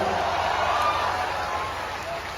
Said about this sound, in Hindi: जरा जोर से ताली बजाकर स्वागत करो जरा